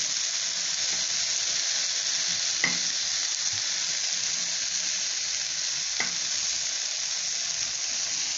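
Raw banana slices coated in masala sizzle steadily on an iron tawa, a continuous close frying hiss with two brief louder crackles, no talking.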